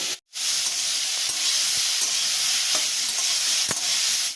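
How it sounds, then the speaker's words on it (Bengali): Cauliflower frying in a kadai gives a loud, steady sizzle and hiss, broken by a short gap at the start and by occasional scraping stirs. "ফুলকপিটা আমার একটু ভাজা ভাজা হয়ে এসছে আর একটু নাড়াচাড়া করে ফুলকপিটা আমি নামিয়ে দেবো"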